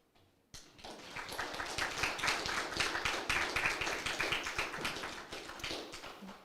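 Audience at a school board meeting bursts into applause after a brief quiet moment: many hands clapping in a steady, fairly loud patter that holds for several seconds before beginning to thin out near the end.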